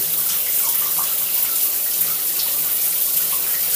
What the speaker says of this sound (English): What's the shower pressure like?